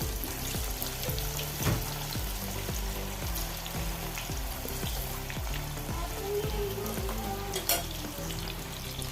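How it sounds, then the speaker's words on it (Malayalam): Soybean chunks sizzle steadily in hot oil in a kadai, a dense crackling fry with faint periodic stirring knocks, close and continuous without any talk. "ഗ്യാസ് ഓൺ ചെയ്ത് ഒരു കടായിൽ എണ്ണ വെച്ചിട്ടുണ്ട് എണ്ണ ചൂടായി സോയാബീൻ ഇട്ട് കൊടുക്കാം"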